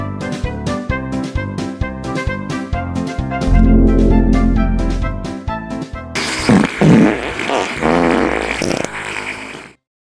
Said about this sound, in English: Anybody who can fart like you did must have serious skills!